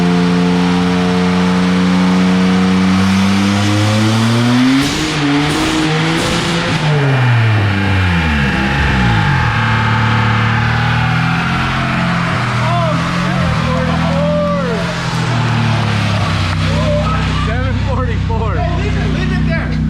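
A 590 HP single cam car engine revs hard in repeated rising and falling sweeps, loud and close, with people talking at points over it.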